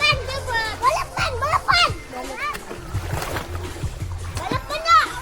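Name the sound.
children swimming and splashing in lake water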